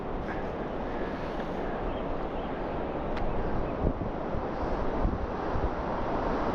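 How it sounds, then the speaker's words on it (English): Steady ocean waves wash onto a Devon shore during a sea fishing session, with constant wind buffeting the microphone; a broad, continuous surf rush with no talking. "It's so peaceful, just the sound of the ocean and a few birds, and that's it."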